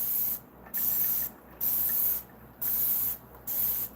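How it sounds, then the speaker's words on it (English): Four bursts of Dawn degreaser spray, each a sharp, close hiss lasting about half a second, separated by short pauses in a steady rhythm, with no talking. "And then hit it with this Dawn spray"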